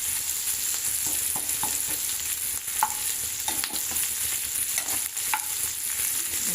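Onions and green chilies frying in a pan for egg masala, a steady broadband sizzle with occasional stirring clinks and scrapes throughout, close and alone with no talking.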